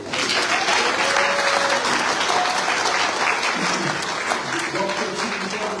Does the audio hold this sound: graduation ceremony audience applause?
yes